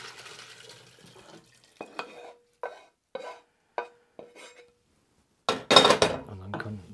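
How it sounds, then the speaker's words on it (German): A wooden spoon scrapes and stirs through a frying pan of gyros meat in several short, separate strokes, followed by a louder burst of sizzling and clatter near the end. "einmal mit einem Holzlöffel durch die Pfanne, damit die Röstaromen sich lösen"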